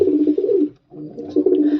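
Low, throaty pigeon coos repeating close by in two bursts separated by a brief pause, with no one talking.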